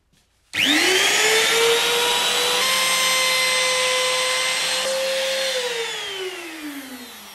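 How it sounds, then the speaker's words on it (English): A dust extractor hooked up for guitar binding work kicks on abruptly and runs with a loud, steady whining roar, its pitch shifting slightly partway through, with no voices. "we're going to hook up a dust extractor as well"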